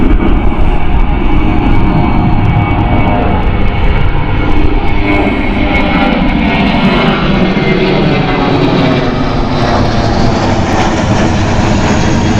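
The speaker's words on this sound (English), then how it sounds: "And we can see the Eastern ATR in the background as well." Eastern Airways ATR turboprop engines at Gatwick Airport give a loud, steady roar with a low drone and slowly shifting pitch, running continuously without pause.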